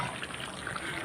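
Water poured into a pot of chicken being cooked, a short steady trickle and splash running without a break, fairly soft and close.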